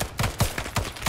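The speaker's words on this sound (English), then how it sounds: "we'll just hold the road for now with a big machine gun" Heavy machine gun fire in the ArmA 3 S.O.G. Prairie Fire setting, a loud, close series of rapid bursts with short gaps between them, each burst repeating the same sharp crack at a steady rhythm.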